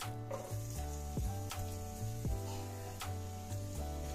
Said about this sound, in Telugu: మీడియం సైజ్ ఆనియన్ సన్నగా తరుగుకున్నవి వేసుకోవాలి